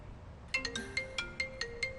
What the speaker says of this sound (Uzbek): Xola, oyim telefon qilyaptilar.